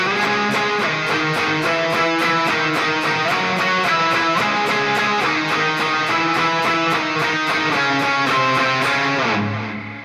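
Distorted metal lead guitar through an ENGL Powerball amp model with a Springtone cabinet impulse, sustained melodic notes in a steady rhythmic phrase over even picking, loud and alone throughout.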